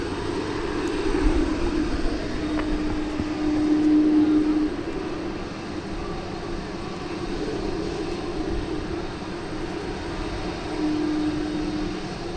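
An airplane at DFW Airport at night gives off a steady, broad engine roar at moderate distance, holding a faint tonal whine that swells slightly and then eases, with no talking.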